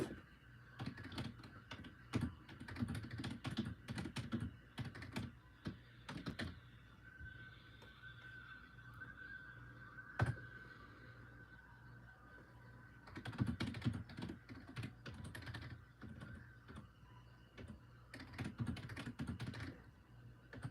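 Bursts of typing on a computer keyboard, close and fairly quiet, come in clattering runs separated by pauses, with a faint thunk midway and no talking.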